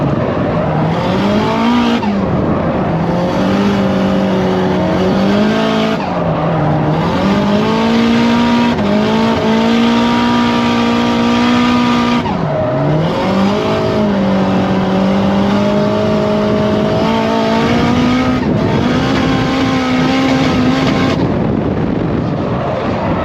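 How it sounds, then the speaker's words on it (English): A car drifts in long sustained slides, loud tire squeal wavering and rising with engine revs over about twenty seconds, broken by brief gaps as the car changes direction, with no talking. "I feel like Takumi when he learned how to drift all-wheel drive for the first time"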